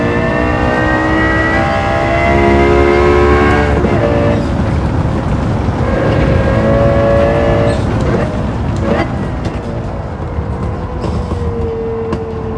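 A Lexus LFA V10 engine in Gran Turismo 7 revs continuously at high pitch, rising and falling through shifts with a loud, dense whine throughout, under game ambience.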